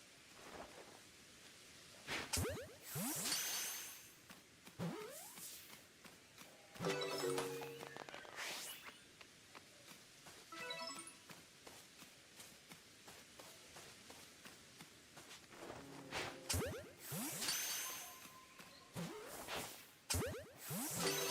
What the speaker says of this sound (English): Space-time distortion is forming.